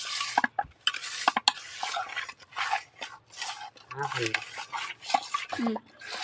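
Raw fish pieces rubbed and washed by hand in water, giving repeated wet sloshing and scraping against a vessel, close up, with a voice talking over parts of it.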